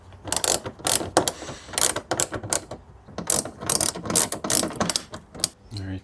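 Plastic trim clips on a Ford F-150 truck headlight snap into place, giving a rapid, uneven run of sharp, loud clicks and clatters close by, with no talking.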